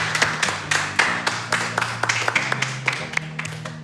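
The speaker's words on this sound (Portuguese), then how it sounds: "Então, uma salva de palmas." Audience applause at a maker program presentation, a moderate burst of clapping hands with sharp irregular claps throughout, steady and fairly close over a low musical backdrop.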